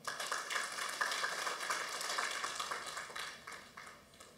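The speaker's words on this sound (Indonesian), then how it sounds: "berikan tepuk tangan buat Tuhan" A church congregation applauds at the close of a sermon, a continuous, fairly faint patter of many hands clapping that tapers off toward the end.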